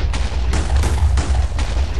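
Repeated booming explosions in a video game, several loud blasts in quick succession with heavy low rumble, close and dense with no talking.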